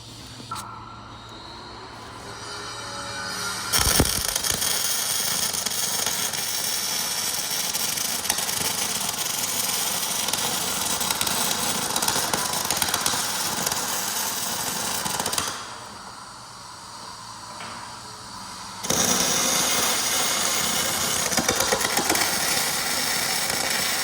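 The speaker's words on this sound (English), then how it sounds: "And go to weld the other end now." Arc welding on the corners of a steel frame over a workshop inspection pit, giving a steady loud crackling buzz that runs most of the way, pausing briefly before starting again.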